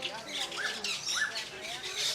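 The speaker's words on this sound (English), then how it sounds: "Metallic starlings," Metallic starlings at Animal Kingdom give repeated squawks and rising whistled calls, a few distinct notes over a soft chatter of birds, moderately close and faint, with speech beneath.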